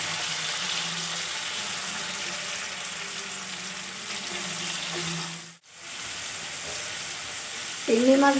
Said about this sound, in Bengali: তেল গরম হয়ে গেছে, চিংড়ি মাছগুলো একটু ভেজে নেব